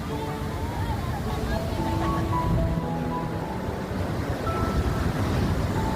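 Steady roar of big sea waves surging and washing in on the shore at Zanzmer near Bhavnagar, Gujarat, with wind buffeting the microphone throughout.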